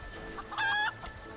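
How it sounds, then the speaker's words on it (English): A tamed rooster, painted green, in the video game Final Fantasy XIV gives a single short, bright cluck-crow lasting about a third of a second over a quiet game background. "I tamed a rooster and painted it green."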